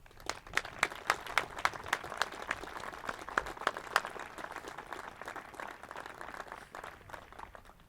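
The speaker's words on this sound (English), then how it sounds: "I'd also like another round of applause for dedicating the field to Derrick" An audience applauds at a field dedication, with a dense patter of many hands clapping steadily for several seconds at moderate distance, with a few louder individual claps standing out early before the clapping thins slightly.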